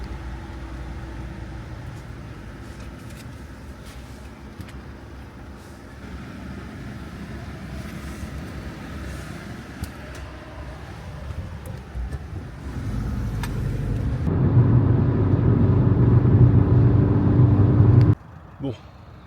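A car drives along the road with steady engine and tyre rumble inside the cabin, growing louder and heavier toward the end before cutting off sharply, with a person talking over it.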